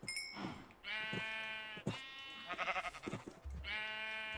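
Several sheep bleat one after another in Minecraft, a mix of long wavering calls and shorter overlapping ones, fairly close, with no talking.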